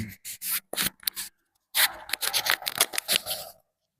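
Close, scratchy rubbing and bumping noises come in uneven bursts as a microphone falling off is handled and repositioned, with a short quiet gap midway.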